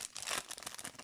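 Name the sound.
opening a baseball card pack wrapper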